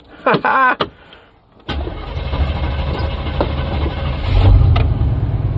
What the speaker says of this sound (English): Just a little bit of idling now.